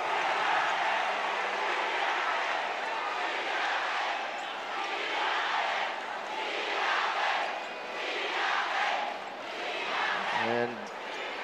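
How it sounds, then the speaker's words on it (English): Basketball crowd at the 2022 MPBL National Finals between Zamboanga and Nueva Ecija roars in sustained waves, a loud, continuous arena cheer rising and falling, with a commentator's voice faintly under it. "the crowd getting into it."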